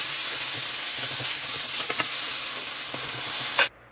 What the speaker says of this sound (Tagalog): para mas masarap ang ating laing ay magigisa nga ako dito ng liempo